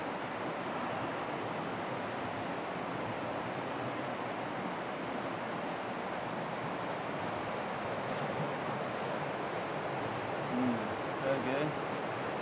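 A river flowing nearby outdoors, a broad continuous rushing wash mixed with wind noise on the microphone, with a brief faint voice near the end.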